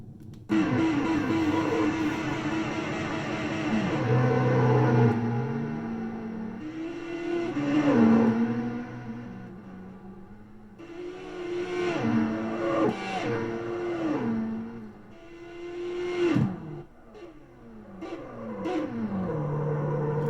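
A race car engine in the Wii game Drag & Stock Racer revs loudly and repeatedly, climbing through gear shifts with brief tire squeals, continuous and close, with no talking.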